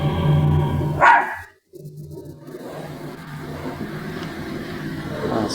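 A dog barks loudly in a home video played back: a short burst of sharp barks, then an abrupt silence, followed by a low rumbling background.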